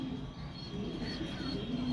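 Pigeons coo softly at a rooftop loft on a windy day, low murmuring calls under faint background noise.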